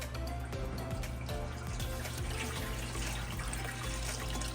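Water from boiled seafood, with mud crabs among it, is drained off in a home kitchen, making a steady pouring and splashing wash with a few small knocks and clinks throughout.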